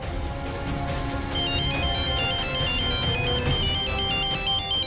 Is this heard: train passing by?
no